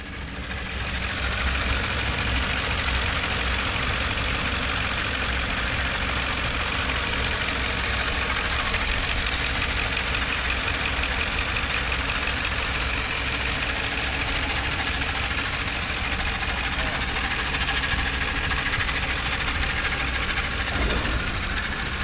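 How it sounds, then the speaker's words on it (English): A 2009 Ford F150 XLT crew cab pickup with a 4.6 liter Triton V8 idles steadily at close range, a continuous low rumble with a faint ticking knock and no talk over it. "So I'll just let you listen to the motor."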